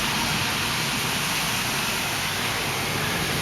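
Steady rain pouring during a summer thunderstorm in Beijing, a dense continuous hiss filling the whole stretch at even loudness, with no voices and no distinct thunder crack.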